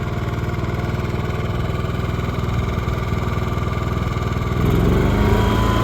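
An AIVOLT 10K watt inverter generator idles with a steady, close engine drone, then rises in pitch and loudness near the end as it comes off low idle.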